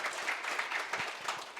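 Audience applause at a brain-science talk event, a short burst of steady, dense clapping from a seated crowd.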